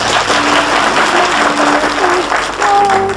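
Audience applause at a 1989 Icelandic television show breaks out loud and close, a dense wash of clapping that continues throughout while a voice speaks over it.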